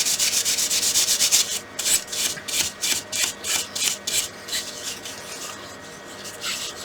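A wooden whistle turning on a lathe gets polished with Yorkshire grit, producing a steady close rasping rub that breaks into a rhythmic run of short scrubbing strokes about twice a second, then eases to a softer hiss.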